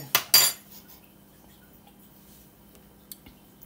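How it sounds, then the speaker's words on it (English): A spoon clinks twice against a coffee cup, two sharp close metallic strikes near the start, then near silence with a faint tick later. "It's got half a spoon give it a little stir."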